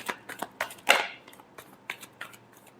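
Tarot cards being shuffled, a series of quick papery riffles and flicks in irregular bursts, close and fairly quiet, with one louder riffle near the middle.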